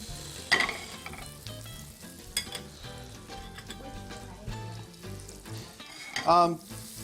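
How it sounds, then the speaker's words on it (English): Butter heats in a nonstick pan for a mushroom omelette, giving a quiet, crackling sizzle broken by a few clinks and taps of a utensil against the pan, with no talk. "a decent amount of butter. Just gonna coat all around this nonstick pan."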